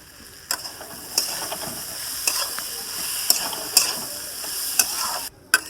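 Radish greens fry in hot oil with a bright, continuous sizzle, broken by sharp scraping clicks from a spatula stirring the pan every second or so, close and alone without speech.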